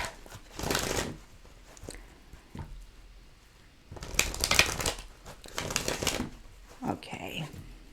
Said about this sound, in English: Let's give it a few more shuffles.